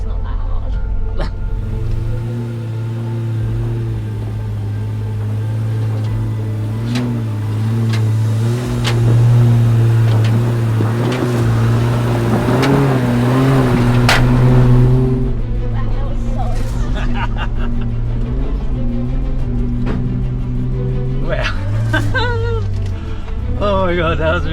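A Nissan GU Patrol 4WD with a TB48 engine revs hard as it climbs a hill, its deep engine note rising and holding loud for about fifteen seconds before easing off; people talk nearby.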